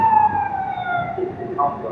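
A wailing warning siren echoes inside a road tunnel in Yunnan, China, with a resonant, enclosed quality, its tone holding and sliding, with faint talk beneath.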